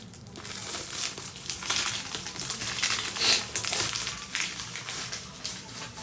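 Crisp, rapid clicking keystrokes on a keyboard patter irregularly up close, with crinkly bursts and no voices over them.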